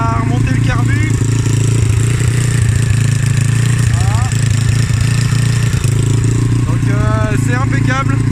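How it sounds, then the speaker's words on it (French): A dirt bike engine, just back running after its carburetor was refitted, idles steadily throughout, with a constant low drone and occasional chirping sounds above it. "la moto est bien repartie"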